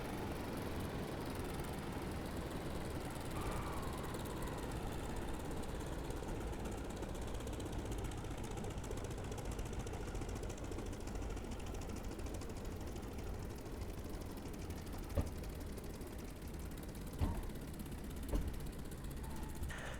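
The engine of an I-16 fighter in the DCS flight game drones steadily and fairly faintly as the plane lands on a runway, with a few soft thumps near the end as it touches down.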